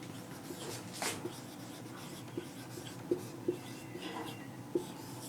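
Pen writing on paper while working a geometry exercise on quadrilaterals, soft continuous scratching with a few small taps, close and quiet, no talking.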